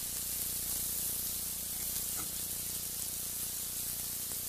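Potatoes fry in very hot fat, a dense continuous hiss and spray of sizzling that holds steady and close throughout, with a faint brief knock partway through.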